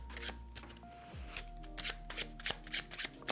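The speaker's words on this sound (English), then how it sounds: "and we have the Pharaoh shuffle, just like so" A deck of playing cards being faro shuffled: crisp riffling bursts and light snaps of card edges, repeated in a quick irregular rhythm close to the mic, with a low hum underneath and no talking.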